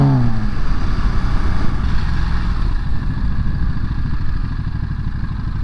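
A 2023 Ducati Monster SP motorcycle riding through city traffic, its engine a steady close rumble with a brief rising tone at the start, continuous and alone without speech.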